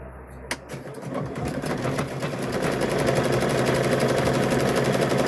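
A home sewing machine stitches quilt binding after a brief pause and a click, its motor building to a steady, fast mechanical whir that runs continuously and fairly close.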